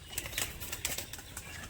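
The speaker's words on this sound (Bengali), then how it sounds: "এই যে 3টে বাজি মেরে বসে গেল পায়রা" A tumbler pigeon flaps through three aerial rolls and then settles to land, giving a series of quick, crisp wing-clap bursts that come close and fairly loud over a steady outdoor hiss, with no talking.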